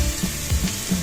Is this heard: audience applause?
no